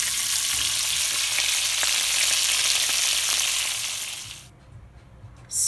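Oxtail browning in a pot for Jamaican oxtail: a steady, loud broadband sizzle and frying crackle lasting about four seconds, then quickly fading to near quiet with a brief clatter at the end.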